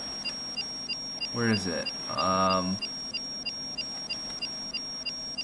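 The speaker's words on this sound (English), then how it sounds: "I wanna disarm that alarm right now. It's so annoying." A repeating electronic alarm on a sinking ship in a video game, short evenly spaced high beeps running steadily throughout, while someone briefly speaks over it.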